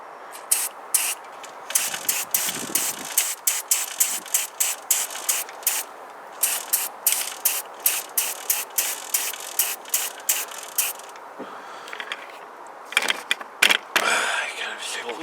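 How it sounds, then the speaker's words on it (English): Auto Extreme chain lube hisses from an aerosol can onto a cheap kids' motocross bike chain in short, rhythmic bursts, about twenty quick sprays separated by brief pauses, then a couple of longer hisses near the end. "Man lubes chain, hold the front page."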